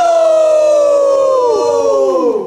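A loud vehicle siren wails in a steady sustained tone, then its pitch drops sharply as it winds down near the end, heard alone with no talk.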